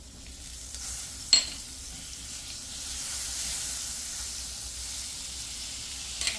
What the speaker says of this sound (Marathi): आता आपली कढई तापलेली आहे, त्याच्यात मी थोडंसं बटर टाकते.